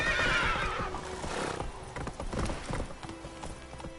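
Roach, a horse in The Witcher video game, gives a loud whinny that trails off into scattered clip-clop hoof sounds, with no voices.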